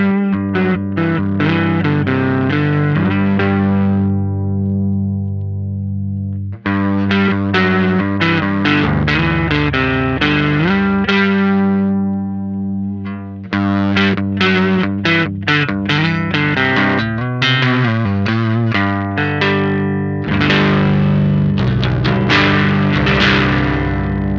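Electric guitar on the neck pickup through an LBF Fuzz Cauldron fuzz pedal with its treble turned up, playing loud sustained fuzzy chords and riffs in several phrases separated by short pauses.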